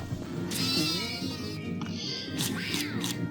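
A kitten in a video game gives a few drawn-out meows over a busy game soundtrack, up close and fairly loud, with no speech.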